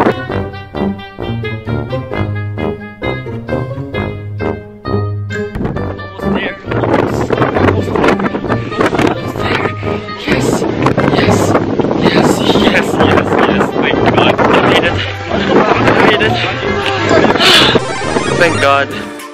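Strong wind roars and buffets the microphone on the longest suspension bridge in Korea, a loud, continuous rush that thickens midway, with voices talking beneath it.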